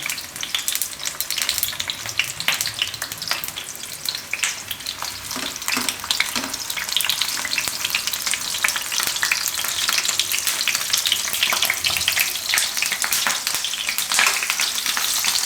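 Eggplant pieces fry in hot oil for a Gujarati fried oro, giving a steady, dense sizzle and crackle that stays close and fairly loud throughout, with no talking.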